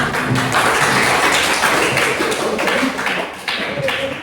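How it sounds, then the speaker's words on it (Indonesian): Students in a classroom clap for a classmate, a loose, uneven patter of hands that fades toward the end, with faint voices underneath. "Tepuk tangan untuk temennya"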